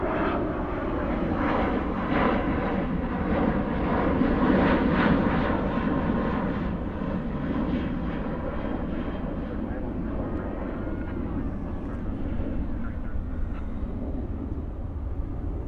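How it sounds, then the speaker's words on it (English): An Airbus A321 jet airliner at DFW airport at night gives a steady, broad engine roar that holds at an even loudness throughout, with a voice talking over it. "That's a 321. Oh, 321."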